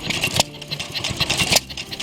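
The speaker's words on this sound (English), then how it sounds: "Another old hit-and-miss engine running on the day" An old hit-and-miss engine runs at a vintage engine rally, giving irregular mechanical firing beats and clatter at moderate loudness close by, with a steady background of other machinery.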